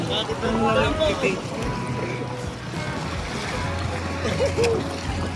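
People splash into the sea on a day trip to Pico de Loro, with water churning and splashing loudly under constant chatter and excited voices close by.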